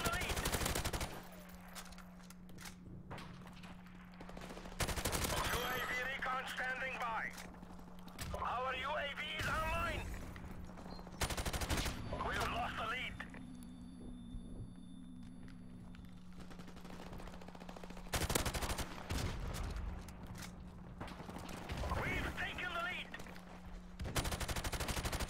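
A G36 rifle fires in a video game in several short bursts spread through the clip, each a loud broadband burst, with a steady low hum throughout and someone talking between the shots.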